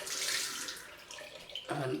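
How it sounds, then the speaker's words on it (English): Cold water runs from a tap into a sink as a shaving brush is soaked, a steady broadband splashing that briefly eases before a louder, fuller rush of water near the end. "So just soak it in some nice cold water"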